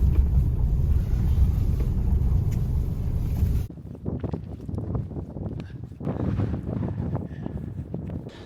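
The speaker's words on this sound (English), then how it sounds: "It's a bit blustery." Blustery cold wind on the Irish coast roars and buffets against the microphone in loud, gusting rumbles, easing briefly partway through before surging again.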